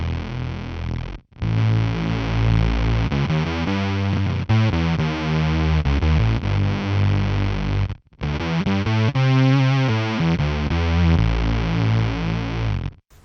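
Thick, buzzing synth tones from four slightly detuned oscillators on a guitar synth pedal, held chords shifting in pitch with brief gaps of silence between phrases.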